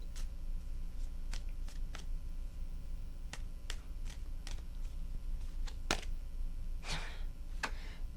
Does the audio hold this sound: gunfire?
no